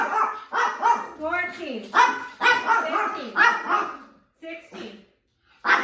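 Several dogs bark in short repeated bursts at a home, near and fairly loud, with a person counting aloud over and between the barks.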